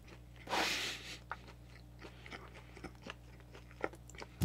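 Close, crunchy biting into a Wendy's Korean BBQ cheeseburger, followed by quieter chewing with scattered small mouth sounds in a quiet room.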